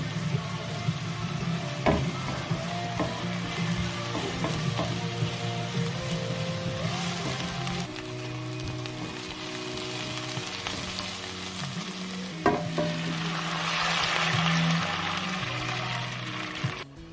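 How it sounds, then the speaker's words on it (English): Onions and seasonings sautéing in olive oil, a steady background sizzle mixed with a tonal hum and a few clicks and knocks, moderately loud and continuous, no voices. "off by sauteing in some olive oil the onions and some seasonings and toast those up"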